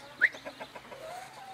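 A rooster clucks in a short series of soft, close calls, opening with one sharp squawk and trailing into quieter clucks.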